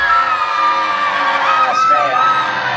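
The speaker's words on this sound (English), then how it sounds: "Everybody on 3, scream along." A group of riders screams together on a Universal Studios ride, a loud, sustained chorus of voices whooping and yelling at close range without a break.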